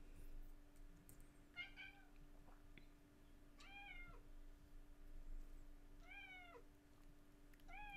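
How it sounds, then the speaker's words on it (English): A cat meows faintly in the background, about three separate short meows spread over several seconds, set against a quiet room with a low steady electrical hum. "there is a cat in the background, which you may periodically hear in the audio"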